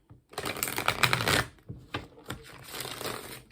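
Tarot cards being shuffled close by in two quick riffling bursts separated by a short pause, crisp and papery with no talking.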